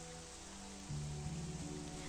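Rain pours down in the visual novel game Pandora, a dense, steady hiss of drops on surfaces under a low sustained music tone, the downpour continuous throughout with no speech.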